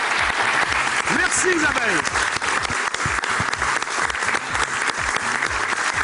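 TV talent-show studio audience applauds a returning contestant, loud sustained clapping with someone speaking briefly over it near the start.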